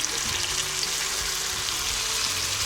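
Hilsa fish sizzles and fries in a pan while cooking for ilish polao, a steady close crackling hiss with faint stirring underneath and no talking.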